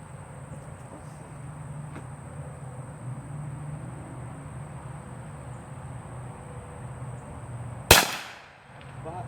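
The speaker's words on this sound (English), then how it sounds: "So let's see if we can pop them with this thing" A single sharp gunshot from a Kel Tec Sub 2000 in .40 S&W fired at cans about 20 yards away outdoors, a loud crack near the end after steady quiet hum and insect noise, with a brief decaying echo.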